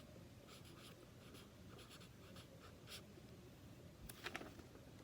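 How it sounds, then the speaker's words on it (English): Pen or pencil writing the word library, faint scratchy strokes in short bursts, close and quiet over a low background hum, with no talking. "I'm going to write down library"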